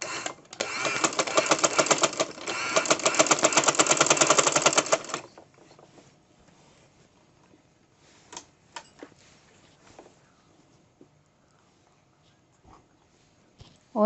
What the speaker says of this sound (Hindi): शर्ट को बराबर करते जाएंगे और थोड़ा थोड़ा कपड़ा इस तरह से सिलाई में देते जाएंगे।